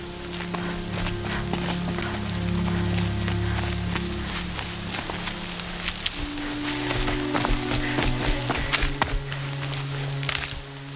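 Rain patters steadily across a Horizon Zero Dawn game scene, a constant wash of drops under low sustained background music, with scattered sharper taps and knocks running through the whole stretch.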